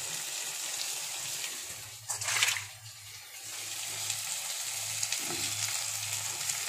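Onions fry in hot oil in a small home kitchen with a constant close sizzle and hiss. A brief louder burst of spattering rises partway through, then settles back into the steady frying.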